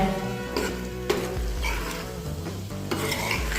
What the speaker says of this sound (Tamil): நம்ம அரைச்ச மசாலாவை இப்படி போட்டு கிளறி விட்டிங்கன்னா தான் நல்ல மணமான ஊறுகாய் நமக்கு ரெடி ஆகுங்க